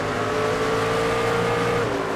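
Race car engines in the NASCAR 25 video game during a career-mode race, a loud continuous high engine drone with a steady pitch that dips slightly near the end, no talking.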